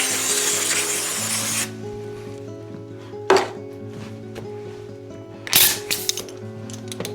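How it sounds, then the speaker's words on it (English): Speed degreaser rinse hisses from a spray can onto old Trek bike parts in one loud, steady burst. It then stops, leaving a faint hum broken by two short clunks of handling. "And then speed degreaser. It's an expensive rinse"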